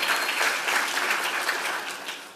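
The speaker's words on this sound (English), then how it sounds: "You can clap for her too" A room full of listeners at a design session breaks into brief clapping, even and fairly loud, then fading over about two seconds.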